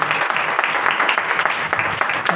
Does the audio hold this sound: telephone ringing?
no